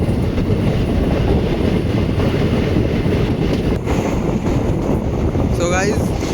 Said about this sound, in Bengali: ডানকুড়ি লাইনে আমাদের ট্রেন উঠে যাচ্ছে